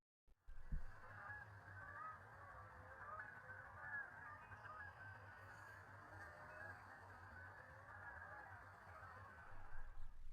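A dark morph snow goose, also called a blue goose, honks repeatedly among other waterfowl on a bay, with steady honking calls over a continuous low background rumble throughout.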